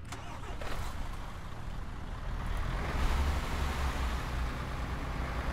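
A police car engine in the video game ArmA 3 idles and revs in a continuous mid-pitched rumble that swells slightly partway through and holds. No voices are heard over it.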